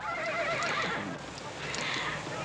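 A horse neighs and whinnies loudly and close, a long wavering call filling the moment, with faint hoof clip-clop and a murmur of voices underneath.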